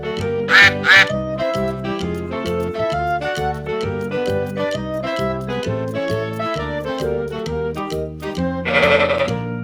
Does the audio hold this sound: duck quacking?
yes